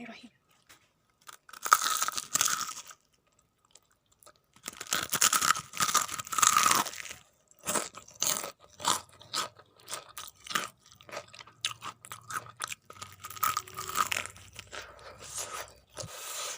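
Loud, close crunching and tearing as crispy KFC-style fried chicken is bitten and chewed, in repeated rough bursts with short pauses between them.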